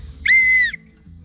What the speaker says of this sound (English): you need a whistle that can produce a loud sound